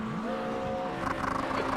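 Race cars at Spa in a racing video game, an engine whine sliding past at speed followed by rougher, louder tire and engine noise from a nearby car, brief and without voices.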